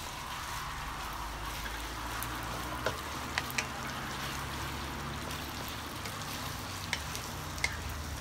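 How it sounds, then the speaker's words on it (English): Rice noodles with beef are stir-fried in a pan, giving a steady close sizzle with occasional light clicks and scrapes from stirring, and no talking. "you gotta stir very often, trying to break the noodles from sticking together."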